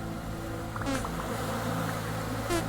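Buzzing bees in the video game Vintage Story, a steady insect drone with two brief louder passes as bees fly close, over a continuous low background hum.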